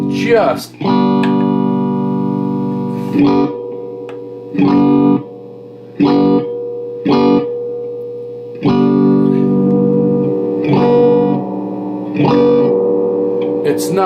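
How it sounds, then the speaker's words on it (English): Electric guitar chords strummed through a Lafayette/Univox U65RN solid-state amplifier, each one drenched in overwhelming, excessive reverb that rings out and washes between short pauses. "Now the reverb is overwhelming, first of all."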